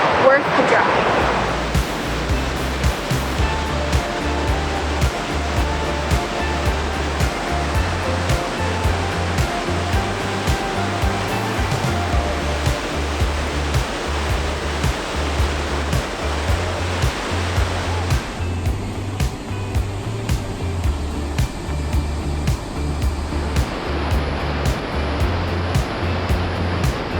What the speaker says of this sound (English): there's a beautiful waterfall and it goes down into a kind of blue river lagoon area